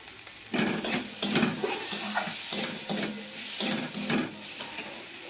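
Fish pieces and capsicum fry in a pan, a steady sizzle broken by repeated stirring scrapes and clanks of a utensil against the metal, close and fairly loud with no voices.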